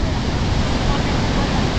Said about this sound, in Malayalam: നോക്കി നിങ്ങൾ എന്നാ ഹൈറ്റിൽ നിന്നാണ് ആ ഒരു വെള്ളച്ചാട്ടം വരുന്നതെന്ന്